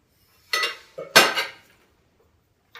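A crispy frozen Eggo waffle is cut with cutlery on a plate: two or three close, sharp crunching scrapes and clinks in quick succession, then quiet, with one more brief clink at the end.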